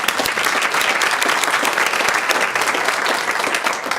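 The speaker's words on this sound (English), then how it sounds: "So just a quick round of applause and thanks" An audience claps in a dense, steady round of applause at an event, loud and close throughout, with no voices over it.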